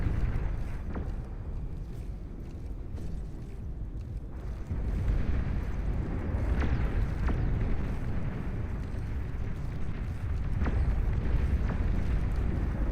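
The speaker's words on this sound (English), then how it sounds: "Juno missiles colliding everywhere as well" Juno missiles exploding in a video game match, a steady rumbling barrage with repeated muffled blasts and low booms layered over each other throughout.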